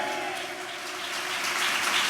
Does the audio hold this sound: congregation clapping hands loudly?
yes